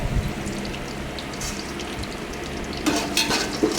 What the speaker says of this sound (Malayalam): ഇനി അതിലേക്ക് പട്ട, ഗ്രാമ്പു, ബേ ലീഫ്, ഏലക്കായ എല്ലാം ഇട്ട് കൊടുക്കാം